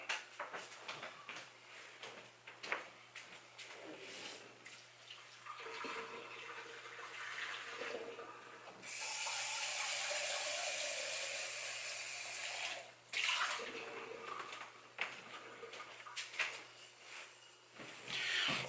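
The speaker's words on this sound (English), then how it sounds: "I did dump out the water and, you know, rinse it out" Water is poured out of a small aluminum backpacking cooking pot, a faint splashing pour with a longer steady stream in the middle, with quieter handling clinks and rustles around it.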